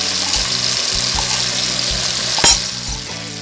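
Onion, tomato and mutton bones with chili powder sizzle steadily in hot oil, close and loud, with repeated scraping strokes of a spoon stirring the pan.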